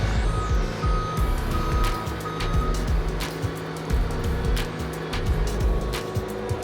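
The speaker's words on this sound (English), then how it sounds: "truck's moving out of the way" Delivery truck maneuvering outside a building, its engine rumbling with squeaks and intermittent reversing beeps, loud and close with no talk.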